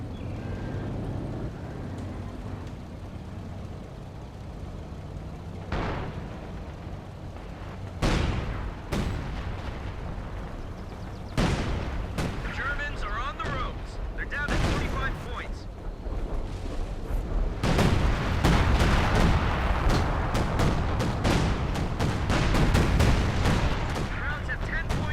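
Artillery fire from a motor carriage in Company of Heroes 2, repeated heavy booms and blasts spaced irregularly amid rumbling battle noise that grows denser toward the end, with a voice speaking over it.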